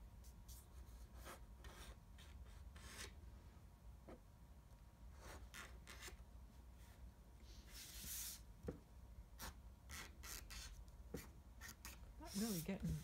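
A toothpick dipped in ink scratches and rasps across paper in short, uneven, close strokes, faint and intermittent, with a person talking over it.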